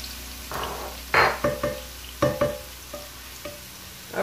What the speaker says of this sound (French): نديرو التومة ديالنا تحمر شوية في الزيت